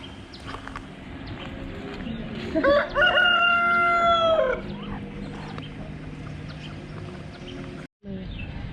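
A rooster crows once at a home café, a clear harmonic cock-a-doodle-doo of about two seconds rising over background chatter and room noise, with quieter voices continuing afterward.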